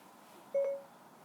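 A single short electronic tone from a car's voice button activating Siri on a Hyundai i30, clear and close in a quiet cabin, with no talking.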